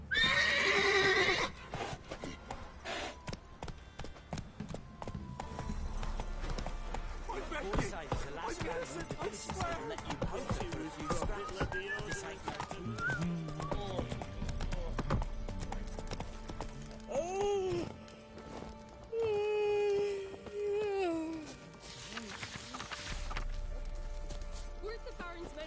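The horse Roach in the video game Witcher 3 trots with steady clip-clop hoofbeats and gives a few whinnies and neighs, with game voices speaking over and between the sounds.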